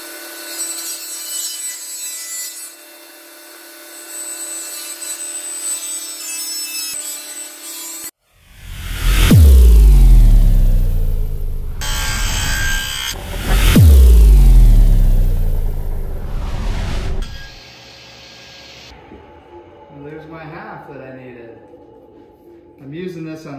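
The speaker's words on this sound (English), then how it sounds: "And I want my saw blade to just cut this." Power saw blade cutting a PVC pipe lengthwise in half, two loud close bursts of whining, grinding cutting separated by a brief pause, with talk and other sounds before and after.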